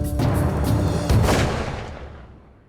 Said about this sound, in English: Shot a beautiful ram, made a great shot on it.